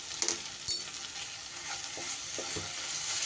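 Garam masala being stirred into a fried spice paste in a hot pan, with a steady close sizzle and a few scraping stirs near the start.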